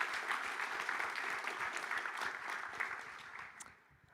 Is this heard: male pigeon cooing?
no